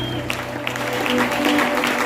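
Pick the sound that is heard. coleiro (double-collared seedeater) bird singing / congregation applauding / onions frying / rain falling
congregation applauding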